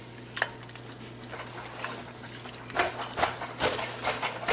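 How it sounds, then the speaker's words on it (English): Milk is stirred into sausage gravy in a pot: soft liquid swishing and scraping, with faint sizzling, building into a busier stirring rhythm toward the end, with no voices. "I'm going to keep adding in the milk, stirring it up."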